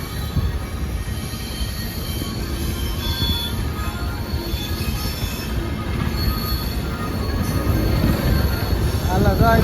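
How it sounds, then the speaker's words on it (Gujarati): A train rolls past close by at a level crossing near Dwarka, its wheels squealing against the rails over a steady loud rumble, with a rising shriek near the end. "આ જો ટ્રેન જાય છે આપણી"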